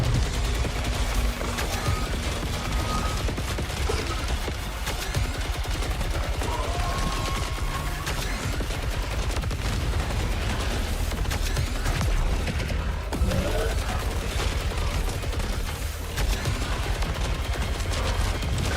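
Rapid video-game gunfire rattles in dense, continuous bursts throughout, loud and close, with mechanical clatter mixed in and faint background sounds.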